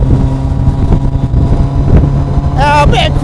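Suzuki Hayabusa with a Cup 200 flat-shifter droning steadily in the low range, then a quick rising rev at an upshift near the end, with wind buffeting over the sound throughout.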